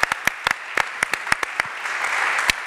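A church congregation claps to acclaim the Lord, with sharp, rhythmic hand claps close by and a rising crowd wash behind them.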